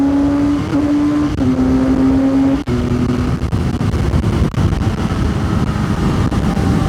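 Benelli 502C motorcycle engine pulling hard through the gears at speed, a loud close-up drone with a rising tone that drops at each shift, steady wind rush throughout.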